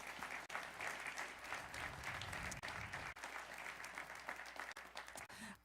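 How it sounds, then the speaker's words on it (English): Audience applause at a university ribbon-cutting ceremony for a new building, a steady and fairly soft patter of many hands lasting several seconds before cutting off abruptly. "So let's give him a round of applause."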